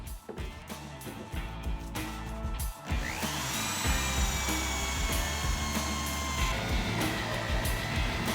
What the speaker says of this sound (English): I'm using a spot weld drill bit for this.